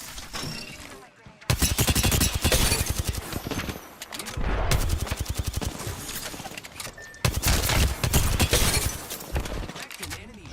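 Rapid bursts of automatic weapon fire in the Apex Legends battle royale game, dense repeated volleys in three long runs separated by brief gaps, loud and close, with game voice lines in between.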